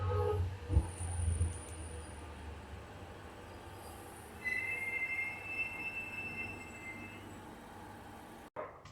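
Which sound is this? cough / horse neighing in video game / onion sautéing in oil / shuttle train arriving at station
shuttle train arriving at station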